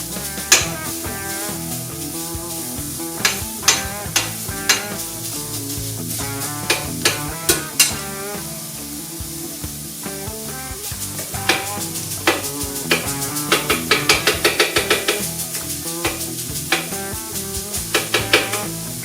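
Ribeye sizzles with caramelized onions and peppers on a Vevor 1600W electric flat top griddle. A steady, close frying hiss runs throughout, broken by frequent sharp metallic clicks and scrapes of a spatula against the griddle surface, with no talking.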